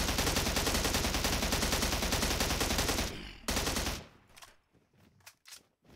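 Rapid automatic gunfire from a burst rifle switched to auto mode in the PUBG Mobile video game, a loud continuous stream of shots lasting about three seconds before cutting off, followed by a few scattered fainter shots.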